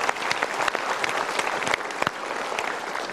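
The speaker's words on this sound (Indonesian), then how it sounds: "Kita berikan tepuk tangan dulu." An audience at a motivational seminar breaks into lively, sustained applause, a dense wash of clapping hands from a full room.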